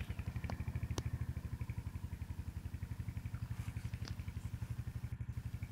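A Hurricane motorcycle engine idles steadily, its exhaust giving off a fast, even thumping pulse with light mechanical clatter throughout. A couple of faint clicks sit on top of the note.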